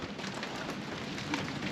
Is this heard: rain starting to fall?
yes